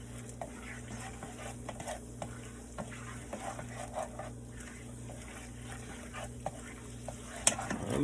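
Honey garlic salmon sauce being stirred in a pan on the stove: a soft sizzle runs underneath while a spoon scrapes and taps at an irregular rhythm, fairly quiet, with a sharper clatter near the end.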